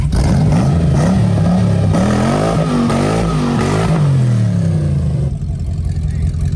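A fake Lamborghini replica car accelerates hard, its engine roaring loud and close, pitch climbing and wavering in a strained rev before easing off near the end.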